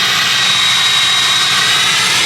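A fifth-generation truck engine running with a hiss tune and a 4-inch exhaust, giving a steady, loud, sustained roar with a high hissing whine on top, no talk.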